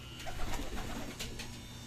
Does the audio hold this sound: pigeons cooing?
yes